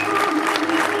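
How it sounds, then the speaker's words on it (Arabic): An audience gives warm applause for an Olympic champion at an honouring ceremony, a brief dense patter of clapping close by with no break. "أطلب تصفيق، تصفيق حار من الجميع."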